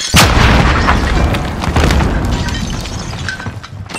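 A planted charge detonates in the Warzone video game with a loud, close boom, then a long rumbling roar of debris and rattling that slowly fades over several seconds.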